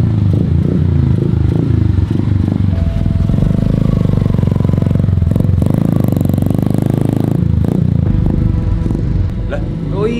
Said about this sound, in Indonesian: Itu siapa lagi geber-geber?